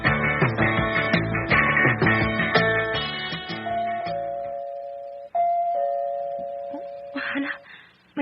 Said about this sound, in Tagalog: Hala, may nag-doorbell na.